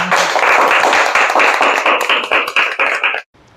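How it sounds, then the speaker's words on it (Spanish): An audience at a workers' union event breaks into loud, dense applause, many hands clapping close together for about three seconds before cutting off abruptly into near silence. "lo vamos a aplaudir."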